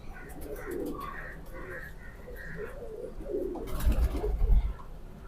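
A healthy pigeon held in someone's hand gives soft, low cooing calls, close by, with some rustling and handling noise toward the end.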